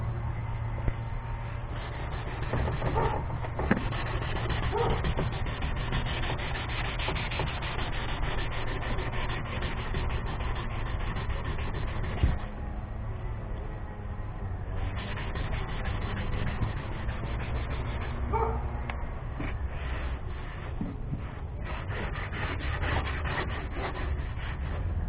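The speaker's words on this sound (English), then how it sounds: "I've got a orbital sander" Orbital sander working over a Hurricane Phoenix 160 kayak, a continuous close rubbing, buzzing grind with small scrapes and shifts in pressure, running steadily without pauses or talk.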